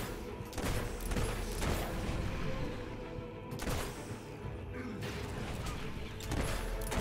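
Pistol shots from Fable III fire in a quick, irregular series of sharp cracks, layered over busy game noise and music with clashing combat sounds.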